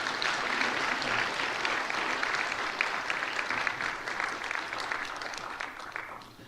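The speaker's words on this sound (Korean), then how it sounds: "박수로 축하 격려해 주시기 바랍니다" A church congregation at a Korean Sunday service claps together in warm, dense applause that holds steady and then thins and fades toward the end.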